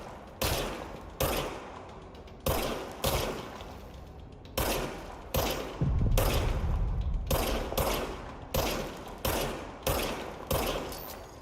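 Bursts of service weapon gunfire from the video game Control crack out every second or so in a steady rhythm, loud and close, with a denser stretch of continuous fire midway through.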